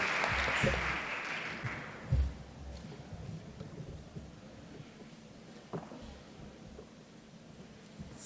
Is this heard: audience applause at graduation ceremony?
yes